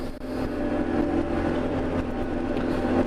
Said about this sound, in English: Do some revs and we're off.